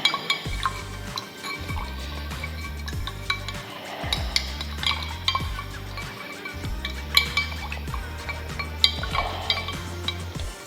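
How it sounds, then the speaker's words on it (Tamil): Stirring of a liquid mixture being prepared for pH meter calibration, a steady scraping, clinking swirl with repeated strokes, close and fairly constant, no talk over it. "இதை மிக்ஸ் பண்ணிக்கலாம்"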